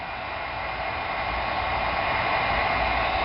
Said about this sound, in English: what heat will do too from the heat gun obviously is it'll make it taper nice and neat